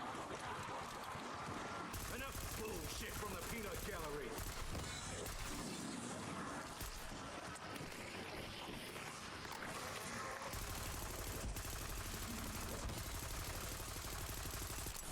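Rapid bursts of video game gunfire from a weapon firing traditional rounds keep going almost without pause, loud and dense, mixed in with a steady layer of game noise and effects.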